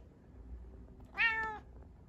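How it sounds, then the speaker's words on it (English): A single short, clear meow from a cat rises out of a quiet room, close and moderately loud. "And he gives his meow of approval."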